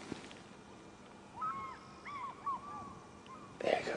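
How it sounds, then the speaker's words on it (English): African fish eagles calling near a drying waterhole, a few clear yelping cries at moderate distance over quiet outdoor background, ending with a short scuffing noise. "Yeah, the fish eagle's calling."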